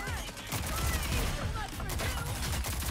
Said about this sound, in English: I'm getting shot in the back.